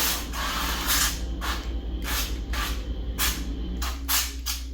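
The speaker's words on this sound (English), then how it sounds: "I'm just gonna spray the avocado oil." Repeated short hissing bursts of avocado oil from a spray bottle, about eight quick pumps in an uneven rhythm, close and fairly loud over a steady low hum.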